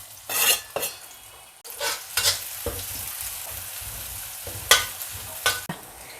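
Ingredients stir-fried in a pan previously used for frying sweet potato, with a steady sizzle under intermittent scraping and clanking of a utensil against the pan, close by and without talk, a kitchen exhaust hum in the background.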